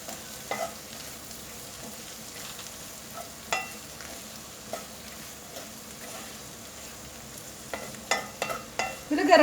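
Chili powder gets stirred into a vegetable sabzi in a pan, with soft scraping strokes and light sizzling under low background noise and a few sharper utensil knocks toward the end; nobody speaks.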